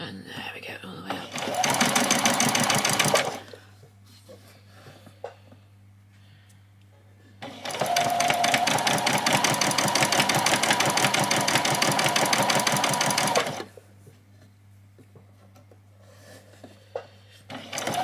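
A sewing machine back stitches a doll's dress seam in two long, loud whirring bursts, each running several seconds, with quieter pauses between them where a voice talks softly.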